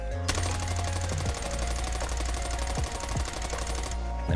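Video game automatic gunfire sprayed in one long, continuous rapid burst without recoil control, loud and steady throughout with no talk.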